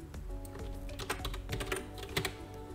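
Code is typed on a computer keyboard in quick, close clicks that come in uneven bursts with a steady low hum underneath.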